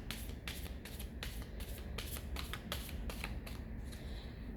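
A deck of oracle cards being shuffled up close, giving repeated crisp riffling bursts in a steady rhythm over a constant low background hum, with no voices.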